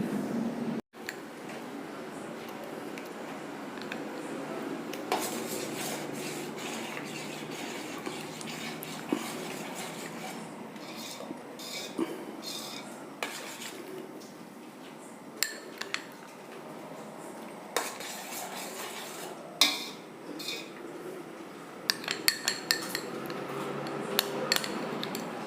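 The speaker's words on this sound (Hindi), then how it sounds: "अब मैं इस पूरे पाउडर को थोड़ा थोड़ा करके ये जो हमारा पतीले का दूध है इसमें डालती जाऊंगी और पतीले के दूध को चलाती जाऊंगी" Metal spoon scrapes and clinks against a metal pot while cornflour mixture is gradually stirred into milk, irregular close knocks and scraping with no talking.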